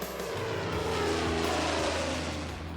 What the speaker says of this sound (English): Powered by 4 massive Merlins, the same engines that powered Mustangs and Spitfires.